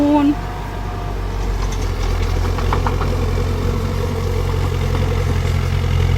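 A high-clearance tracked tractor converted into a sprayer runs with a steady low engine drone throughout, while someone talks over it.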